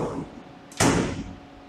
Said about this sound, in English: Then you're going to close the door.